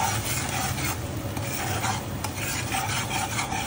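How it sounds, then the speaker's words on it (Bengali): Spices with water, salt, turmeric, chili and coriander powder frying in a pan for a hilsa fish and taro curry, giving a steady close scraping and stirring rasp over a soft sizzle, with no talk. "সব মশলাটাকে আমি কষিয়ে নিব।"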